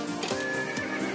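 A skeleton horse in a video game gives a strained, wavering whinny that rises over a steady background hum and repeats once in a short burst.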